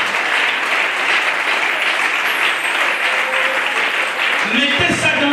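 A congregation at a sermon bursts into steady, dense applause and cheering that holds loud and unbroken throughout, with a voice coming in faintly near the end.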